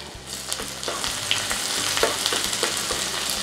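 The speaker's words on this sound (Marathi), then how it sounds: "मी तुपामध्ये चांगलं भाजून घेणार आहे, तळून घेणार आहे ते" Green chilli and ginger frying in ghee in a pan, a steady close sizzle with crackling pops and soft stirring scrapes throughout.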